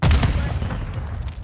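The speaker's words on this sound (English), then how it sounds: "Tossing grenade!" A grenade going off in a Call of Duty video game: a sharp, loud blast at the start that decays into a rumbling tail, with a faint voice underneath.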